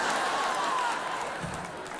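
A live audience applauds at a 2004 reunion concert by a Christian band, the dense clapping steady and fairly loud before easing slightly toward the end.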